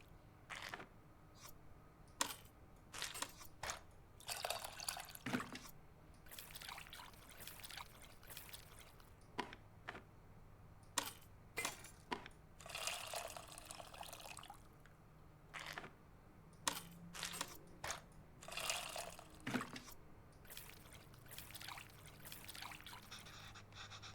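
Tamarind is squeezed in a bowl of water in the Venba cooking game, giving steady trickling, dripping and squelchy wet sounds with small crunchy bursts. The sounds run close and continuous, with no talking.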